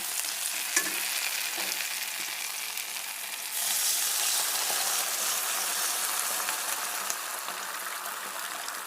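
Water added to tomato and potato frying in a pan: an even sizzle with light stirring, then a sudden louder hissing surge that carries on to the end.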